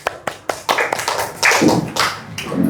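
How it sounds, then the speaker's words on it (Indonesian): Scattered hand claps from a small group after a presentation, starting as a few separate sharp taps and thickening into a short, close, uneven round of applause. "Tepuk tangan."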